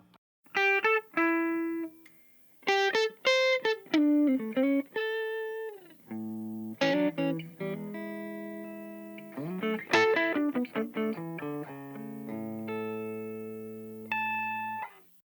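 Clean Gibson ES-335 electric guitar played through two amps, neck and bridge pickups split between them, playing short melodic phrases and sustained notes, with pauses between bursts, clear and close with no talking.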